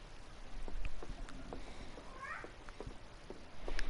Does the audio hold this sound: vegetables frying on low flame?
no